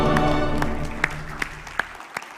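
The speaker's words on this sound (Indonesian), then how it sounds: "Kasih tepuk tangan." A church congregation claps briefly, with a few distinct, scattered hand claps over a fading sustained tone that thins out to near quiet.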